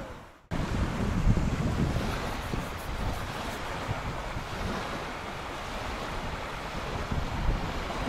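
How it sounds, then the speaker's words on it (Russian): Steady roar of sea surf washing in at night as the tide rises, broad and continuous, with gusty wind rumbling across the microphone and no voices. "море прибывает"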